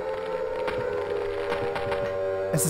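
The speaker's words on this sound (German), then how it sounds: "Und die Sirenen ertönen." Sirens sound in the horror video game Silent Hill: a sustained tonal wail holds steady throughout, layered with scattered cracking hits and a brief louder burst at the end, with no voices.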